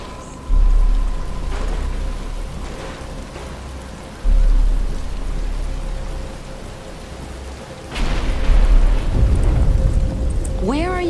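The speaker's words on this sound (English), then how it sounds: "But it's starting to rain." Steady heavy rain in a Batman Arkham cutscene, with several deep rolling thunder rumbles breaking in at intervals and speech heard over the downpour.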